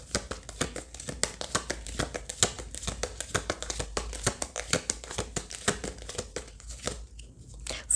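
Tarot cards are shuffled and handled close up, a dense stream of crisp crinkling, sliding and snapping card sounds that patters on steadily for several seconds and then briefly quiets near the end.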